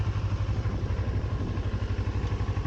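A Kawasaki ER6N motorcycle engine running at a steady idle, a close, even low throb with a regular pulsing beat and faint mechanical clatter, no voices.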